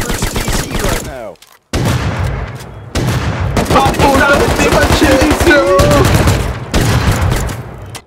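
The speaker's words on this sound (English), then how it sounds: "what the hell's this shotgun?" Shotgun blasts in a video game, a rapid run of loud, close booming shots with players shouting over the gunfire.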